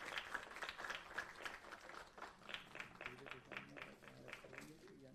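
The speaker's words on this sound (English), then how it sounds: "A huge round of applause for Dr." An audience at a live business event claps for Dr. Manoj. The applause is faint and a little uneven and comes with some crowd murmur and voices.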